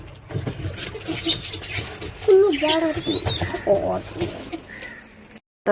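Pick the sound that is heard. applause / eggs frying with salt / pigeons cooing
pigeons cooing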